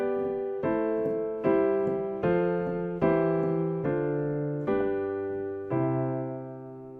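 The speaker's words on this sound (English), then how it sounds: "The entire chord progression sounds like this." A piano plays a chord progression with a smooth, stepwise bassline, about eight sustained chords struck one after another at a slow, even pace, each ringing and fading before the next.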